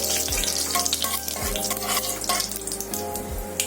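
Cumin seeds, a piece of cinnamon and curry leaves sizzle in hot oil as the tempering for a prawn masala, a loud, steady crackle with a few stirring scrapes and no voices.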